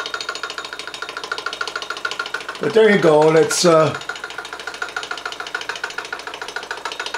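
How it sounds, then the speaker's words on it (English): Louis Heinrici's smallest hot air engine, a Victorian-era model, runs with a steady fast mechanical ticking throughout, briefly overlaid by someone speaking in the middle. "Lewis Heinrici's smallest engine that he made."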